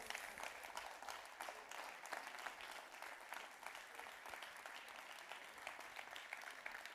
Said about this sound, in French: je vous demande d'applaudir notre grand témoin, Jean-Louis Etienne